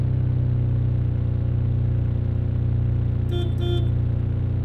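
Engine of an angkot minibus in the Indonesian mobile driving game Angkot D, a steady, smooth mid-pitched hum running throughout, with a brief two-tone horn-like beep near the end.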